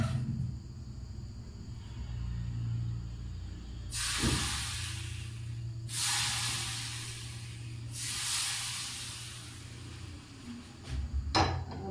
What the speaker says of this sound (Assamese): তেলখিনি গৰম কৰি ললো এতিয়া তেলখিনি মই ইয়াতে দি দিম